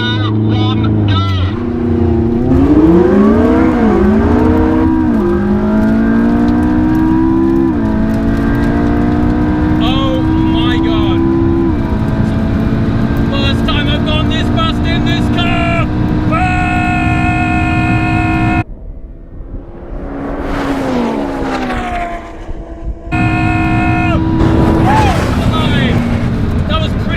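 McLaren 675LT supercar launching under launch control, the engine note rising in long sweeping upshifts with brief gaps between gears, loud and close, with a short dip before it pulls hard again. A person talks over it.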